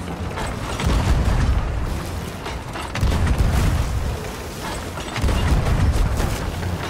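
Deep booming ship cannon blasts recur about every two seconds, heavy and rumbling, amid a dense mechanical din of naval combat in the video game Sea of Thieves, during an Hourglass match.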